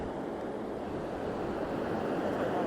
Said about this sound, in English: There's the ocean. And look at this coastline all the way down.